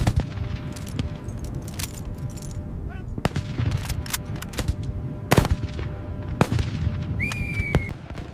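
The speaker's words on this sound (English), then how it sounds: "German MG-42 machine guns." Bursts of German MG-42 machine gun fire crackle through a World War II firefight in North Africa, sharp irregular shots and rapid volleys scattered over a noisy battlefield background.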